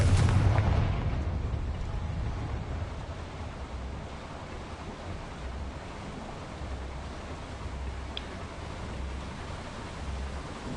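A Confringo spell blast in the Hogwarts Legacy video game, a deep booming explosion at the start that decays into a long rumbling, wind-like roar.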